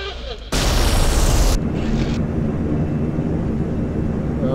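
A Blackburn Buccaneer jet stalling in the X-Plane flight simulator, with a sudden loud roaring burst of broadband noise lasting about a second before it drops into a steady, heavy engine rumble.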